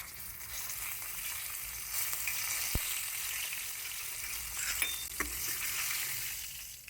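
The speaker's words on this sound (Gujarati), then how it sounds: "તેલ ગરમ થાય એટલે તેમાં એક ટીસ્પૂન ભરીને જીરું ચપટી હિંગ થોડા મીઠા લીમડાના પાન નાખવાના" Cumin seeds, a pinch of asafoetida and curry leaves crackle in hot oil for a Gujarati potato curry, a steady close sizzle with a few small clinks, no talking.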